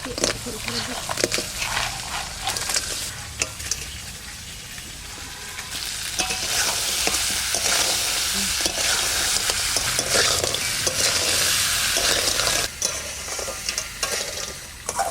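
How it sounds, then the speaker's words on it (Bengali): Crab pieces being stirred and fried in a pan over red crab roe and spices, Sundarbans style; continuous close sizzling with scraping and clattering stirring strokes throughout, while a voice talks over the cooking. "এবার কাঁকড়াটা দিয়ে দিচ্ছি"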